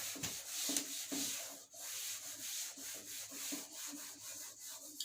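A duster rubs writing off a classroom board in steady back-and-forth strokes, a continuous dry scraping that rises and falls in rhythm, close and without talk.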